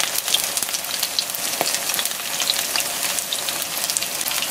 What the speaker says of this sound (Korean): 우엉전 이렇게 맛있게 잘 익고 있어요